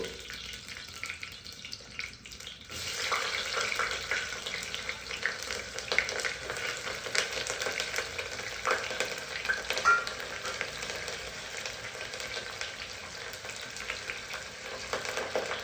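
Sliced onions and a bay leaf fry in a pan for mutton curry, a continuous crackling sizzle that swells after a quiet opening moment and holds steady, with light stirring and no speech.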